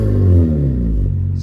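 A Honda Accord V6 fitted with an RV6 J-pipe exhaust revs close by, a deep, loud rumble with rising and settling tones over about a second and a half, no talking.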